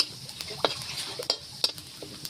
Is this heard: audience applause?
no